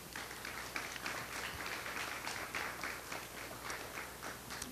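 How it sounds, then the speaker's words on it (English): A symposium audience gives a quiet, distant round of applause for the speakers, an even patter of many hands across the hall, continuous and faint throughout. "Let's give a round of applause to our speakers."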